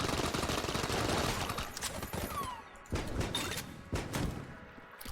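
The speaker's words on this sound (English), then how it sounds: "It shoots a cross beam of science cannon shots." Science cannon disintegrator firing in Enter the Gungeon, a dense rapid volley of synthetic game shots and blasts, loud and continuous with short bursts and brief drops, no talk over it.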